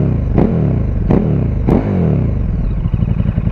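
A KTM 1290 motorcycle fitted with an Akrapovic slip-on exhaust, blipped three times in quick succession, each sharp rev rising and falling back to a loud, close, lumpy idle.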